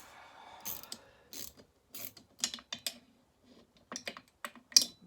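A ratchet wrench tightening bolts on a McCulloch 850 chainsaw engine during a rebuild, with bursts of rapid close clicking pawl sounds separated by brief pauses and a few sharper metallic clacks.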